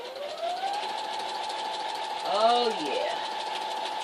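A sewing machine runs in bursts while free-motion quilting over newspaper, its motor whining up and down in pitch, close and moderately loud, with a brief spoken remark partway through.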